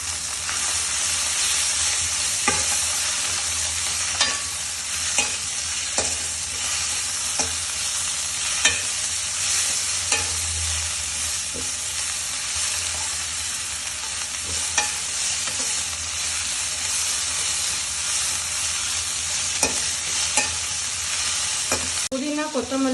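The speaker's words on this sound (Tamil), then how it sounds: "புதினா கொத்தமல்லி எல்லாம் நல்லா வதங்கி வந்துடுச்சு" Mint and coriander sautéing in a pan, a loud continuous sizzle with regular stirring scrapes and taps from a utensil over the whole stretch.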